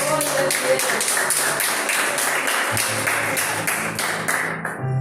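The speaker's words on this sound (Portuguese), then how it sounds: "pode aplaudir ao Senhor Jesus" A Pentecostal congregation claps steadily and rhythmically in church, the dense, loud claps running over sustained keyboard-like music until they break off near the end.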